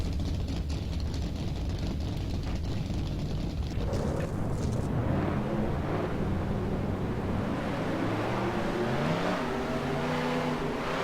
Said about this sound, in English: Drivers, start your engines!